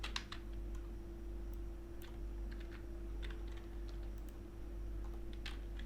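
Computer keyboard typed on while entering C++ code, a steady stream of light, quick key clicks over a constant low electrical hum, with no talk.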